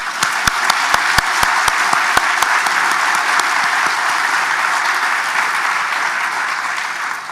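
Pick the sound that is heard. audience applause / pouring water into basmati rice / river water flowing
audience applause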